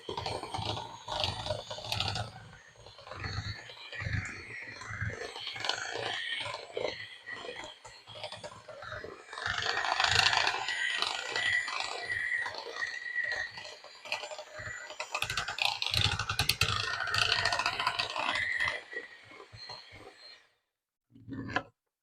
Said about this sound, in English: let's add in the rest of our flour and continue to mix it